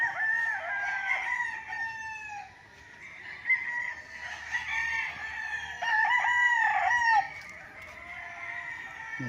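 Roosters crow repeatedly over clucking hens at a farm lot in Pagsanjan, Laguna, where gamefowl breeding hens are kept; several drawn-out crows overlap at moderate distance with no talking.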